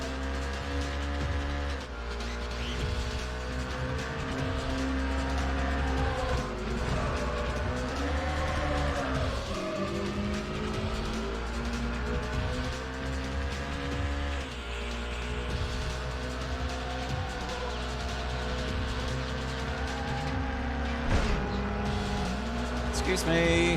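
Phantom race cars roar through a Need for Speed: High Stakes race on PlayStation, engines droning steadily and loud with shifting pitch over nearly the whole stretch, while a person talks over the racing.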